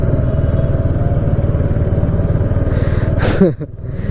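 A Royal Enfield Hunter 350 motorcycle cruises along a national highway in West Bengal, its steady thumping engine and wind noise loud and continuous, with a brief whooshing disturbance near the end.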